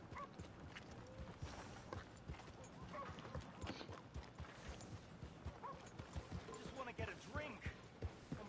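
Horse hooves clip-clop in an uneven rhythm in the Red Dead Redemption 2 video game, fairly faint under soft game ambience, with a voice talking over them.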